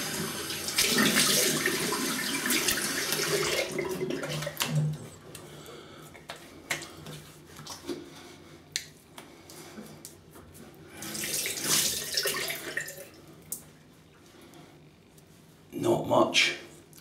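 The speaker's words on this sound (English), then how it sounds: "let me have a quick rinse, cold water" Cold water runs from a bathroom tap for a quick rinse after a pre-pass wet shave, a steady broadband splashing in the first few seconds, then quieter intermittent trickles and a short burst near the end.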